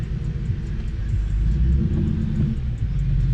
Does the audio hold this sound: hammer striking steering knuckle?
no